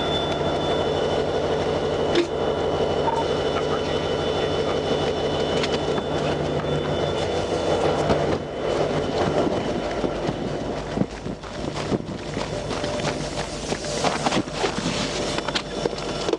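A train rumbles steadily past a rail crossing in Minnesota, a loud sustained roar of rolling wagons with metallic clatter and a faint high tone throughout, growing rougher with sharp impacts near the end.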